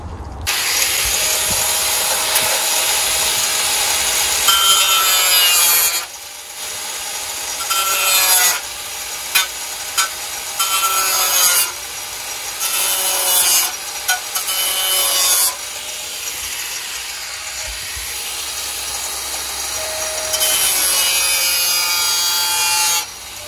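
Sawing through a wide fender on a Subaru WRX STI (VAB) with a hand saw, steady rasping strokes running in long bursts with short pauses, close and fairly loud, no talking.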